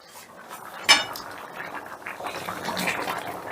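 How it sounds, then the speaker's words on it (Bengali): A metal lid clanks sharply off a pot of thickened rohu fish curry simmering on a gas flame, one clear clink followed by soft bubbling and faint kitchen clatter, close by. "2 মিনিট বাদে ঢাকাটা তুলে নিলাম।"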